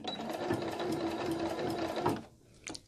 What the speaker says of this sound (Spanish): Continuamos cosiendo. Hacemos retroceso.